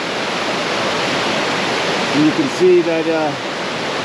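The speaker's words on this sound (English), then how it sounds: "right now, at least down here, it's almost entirely white water" Whitewater rushes loudly and steadily down a river creek, a dense hiss filling the scene, while someone speaks briefly over it near the end.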